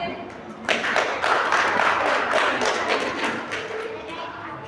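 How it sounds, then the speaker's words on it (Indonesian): Audience applause at a primary school graduation ceremony for sixth-grade students: a dense wash of many hands clapping begins suddenly and continues steadily throughout, with faint thumps under it. "Sekali lagi kita berikan aplaus yang meriah."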